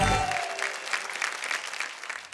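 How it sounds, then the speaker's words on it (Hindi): An audience claps loudly for a poet at a comedy poetry show, a brief speaking voice giving way to a steady burst of applause that fades gradually. "जरा जोरदार तालियां बजाइए।"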